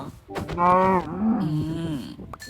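A cow in the Minecraft video game gives two loud, close moos in quick succession, each a short, tonal bellow with no speech over them.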